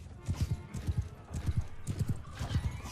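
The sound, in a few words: horses galloping in the video game Bannerlord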